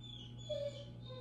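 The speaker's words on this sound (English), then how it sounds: "sorry about my dog, she's crying." A female dog whimpers indoors in a thin, faint, drawn-out whine over a steady low hum, with no talking.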